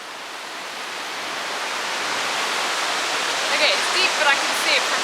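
River rushing through a gorge in Scotland, a dense, steady roar of flowing water that swells slightly louder toward the end, with a few faint higher sounds over it.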